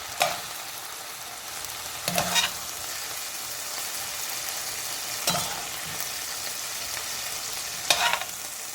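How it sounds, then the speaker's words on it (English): Beef cubes fry in a pot for a beef stew, a steady broadband sizzle with a few louder bursts of stirring or scraping at intervals, close and alone. "continue cooking the remainder of our beef cubes"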